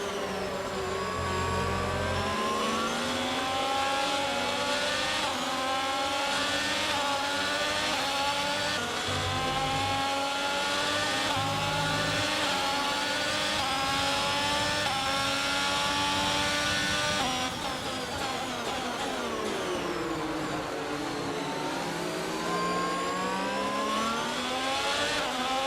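F1 22 racing game cars roar through an overtake at the Canada round, with dense layered engine whine sweeping up and down in pitch as several cars pass, loud and continuous throughout, with no voices.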